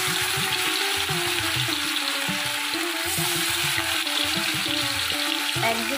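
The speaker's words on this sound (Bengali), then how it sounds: "তেলটা গরম হয়ে গেছে। তো এবারে আমি মাছগুলো ভেজে নেবো।" Fish pieces for fish 65 fry in hot oil with a constant, close, crackling sizzle that holds steady and loud for the whole stretch, with no voices.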